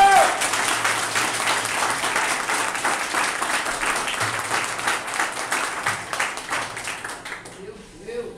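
A congregation at a deliverance church service breaks into sustained applause, a loud wash of many hands clapping with crowd noise, tapering off near the end.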